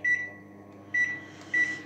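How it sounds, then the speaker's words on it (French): Microwave oven heating a small amount of water inside, a steady low hum with three short high beeps spaced about a second apart, near and clear with no talking. "On ferme le micro-ondes,"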